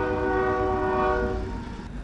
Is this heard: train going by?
yes